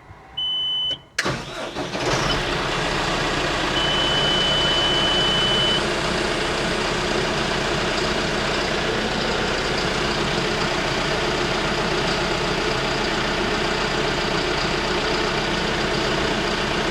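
A John Deere 5100M tractor engine cranks over after a short starter whir, catches, and settles into a steady, close idle that continues unchanged, with a faint high whine above the diesel rumble.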